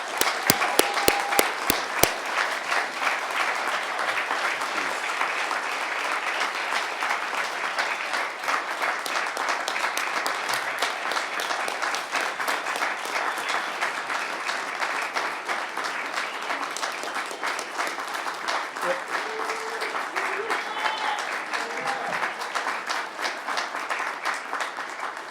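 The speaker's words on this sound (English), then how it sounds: "let's give the lieutenant a big round of applause" Sustained applause from an audience at a city council meeting honoring a lieutenant, a dense even wash of many hands clapping for the whole stretch, opening with a few sharper individual claps.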